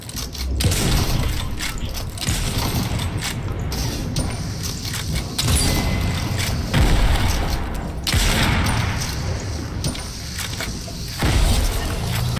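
Chaotic Fortnite firefight with grenade explosions, loud booming blasts and crashing debris mixed with steady gunfire, dense and continuous throughout with no talking.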